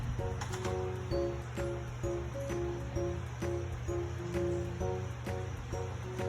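Air bubbling up through water in a DIY aquarium tank filter built with an air stone and PVC pipe; continuous close gurgling and splashing over a steady low pump hum, with regular rhythmic pulses.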